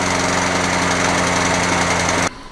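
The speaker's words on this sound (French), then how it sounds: "Le moteur continue à tourner" A Honda engine fitted to a Toro 20782 lawn mower runs with a steady, loud, rattling idle close by, its choke engaged and air intake blocked, before cutting out abruptly at the end.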